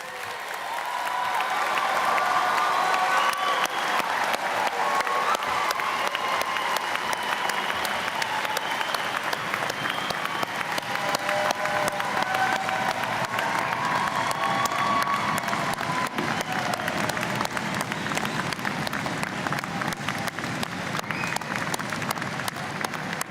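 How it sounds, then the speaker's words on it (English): Sustained, loud applause from a large convocation ceremony audience, dense clapping mixed with some cheering that fills the hall steadily throughout without a break. "my notes say to lead applause, but you've already beaten me to that"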